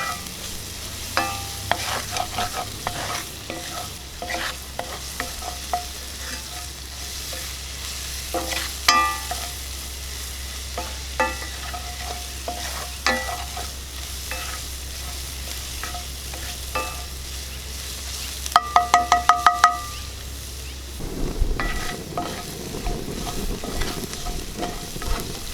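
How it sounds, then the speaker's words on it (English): A New York strip steak sautés in about three-quarters of a tablespoon of oil, a steady close sizzle with occasional stirring and scraping clicks, then a brief rattling burst before the frying continues alone without voices. "Get a little bit of a saute on that."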